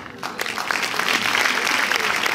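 An audience applauding film guests at a cinema screening event at La Défense, dense steady clapping from a crowd that builds quickly and stays loud and even.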